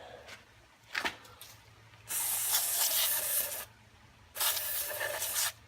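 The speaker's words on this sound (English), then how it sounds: "spray it with a little brake cleaner" A couple of faint taps, then two long, loud hissing sprays from a brake cleaner aerosol can onto trailer bearings, close by, separated by a short pause.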